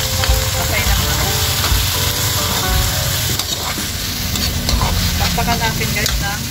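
Chopped liver sautéing with translucent onions in a hot pan for chicken-and-liver chopsuey, a loud, steady sizzle with stirring scrapes throughout and a voice talking over it.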